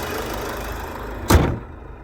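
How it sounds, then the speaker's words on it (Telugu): A 2019 Hyundai Verna 1.6 SX(O) diesel idles with a steady low mechanical hum, interrupted by one sharp, loud thump like a door shutting close by, after which the engine drone settles back quieter. "ఇంజన్ సౌండ్ మాత్రం ఇట్లా వస్తుంది సార్"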